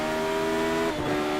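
A Radical race car lapping a banked oval, its engine a steady, droning harmonic whine that dips and shifts pitch slightly near the end of the short burst.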